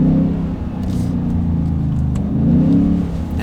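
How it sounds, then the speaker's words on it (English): Ford F-150 with an MBRP 3-inch single side exit cat-back exhaust, V8, downshifting: a loud, steady low exhaust rumble that swells and rises in pitch as revs climb, with no talking. "start some downshifts"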